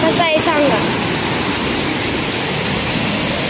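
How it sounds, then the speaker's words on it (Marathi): A waterfall near a temple beside a field pours in a loud, even rushing hiss that fills the whole stretch, with a brief voice near the start. "हा धबधबा कसा आहे सांगा."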